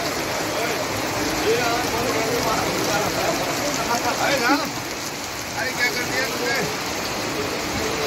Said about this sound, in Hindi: भयंकर हो रही बारिश में